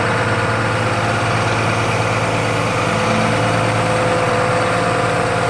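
A tractor engine idles steadily, loud and close, while set up to run two MoCo mower conditioners for hay; the low drone holds even throughout with no voices.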